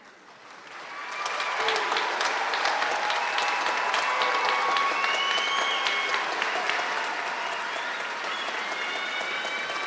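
Crowd applause for graduates at a university summer commencement, swelling quickly after a quiet start into a loud, sustained ovation with some cheering whistles layered over the clapping.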